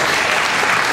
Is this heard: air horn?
no